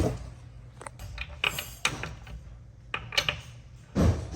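A ratchet turns a 3/4 inch socket on the mount of a Torqeedo outboard tiller on a sailboat, giving short bursts of close mechanical clicking separated by pauses, with a heavier knock near the end.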